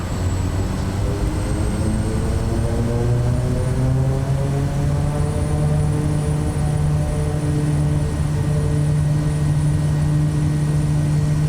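An SWS Kodiak turboprop in Microsoft Flight Simulator 2024 roars loudly and steadily at takeoff power, its deep engine drone and propeller tones holding constant with a slight rise in pitch and no talk.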